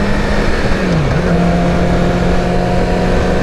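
A 2017 Yamaha R6 sport motorcycle's engine drones at high revs, loud and close. The pitch holds steady, dips briefly and then climbs back to a sustained whine, with no voices.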